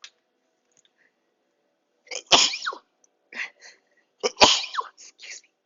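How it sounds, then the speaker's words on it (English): Two sharp sneezes from one person burst out close and loud in a quiet indoor room, each preceded by a short breathy intake, with a soft third exhalation between them. "I feel like I'm gonna sneeze."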